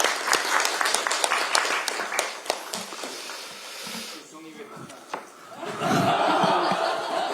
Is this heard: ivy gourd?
no